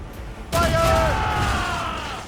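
Ship cannons fire a volley in the Assassin's Creed Rogue naval battle, a sudden loud boom that rolls into a sustained rumble with ringing tones, following a quieter stretch before it.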